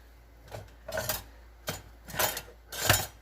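A spoon stirs a creamy white turkey enchilada mix in a bowl, giving several scraping clinks in separate bursts, close and fairly quiet.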